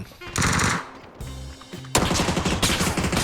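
Automatic gunfire in PUBG rattles out in two loud, dense bursts separated by a brief lull, close and aggressive, without talk over it.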